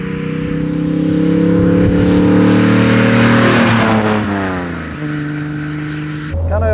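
Restored 1954 Mercedes 300 SL Gullwing engine revving up loudly close by, its pitch climbing and holding, then dropping back and settling into idle before a final short blip of throttle.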